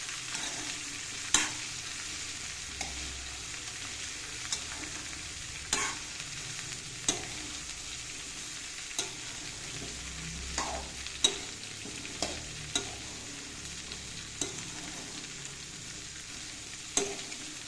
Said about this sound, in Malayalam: എല്ലാം മുഴുവനായി ചേർത്തതിന് ശേഷം ഒരു സ്പൂൺ കൊണ്ട് നമുക്ക് ഇളക്കിയിട്ട് കൊടുക്കാം.